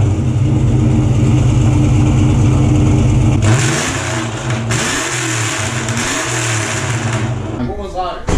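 A 2011-2014 Mustang 5.0 Coyote V8 with a straight-pipe exhaust and no muffler idles with a deep, loud rumble, then is revved in several rising and falling bursts close by. A voice starts talking near the end.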